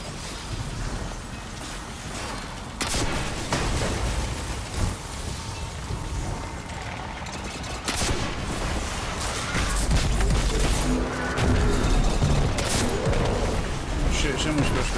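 Gunfire from shooting small enemies in Destiny 2, with dense rolling bursts and booms running throughout alongside game sounds, loud and continuous, with talking over parts of it.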